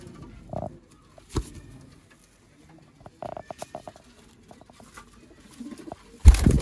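A Sialkoti pigeon gives a few short, soft coos amid light scuffling, wing flutters and pecking taps, ending in a louder burst of rustling.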